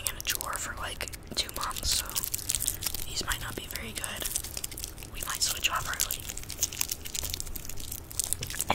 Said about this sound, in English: We're starting off with some Jolly Ranchers.